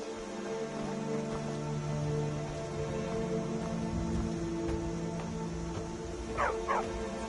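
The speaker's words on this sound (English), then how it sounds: "Good dog." Dog in Skyrim barking and yipping amid a busy game soundscape, a few short yelps rising near the end over continuous ambient noise and tones.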